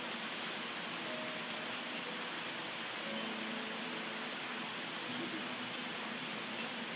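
Heavy jungle rain pouring steadily just outside a balcony, a dense, even hiss with no break for the whole stretch, with faint tonal chirps barely rising above it.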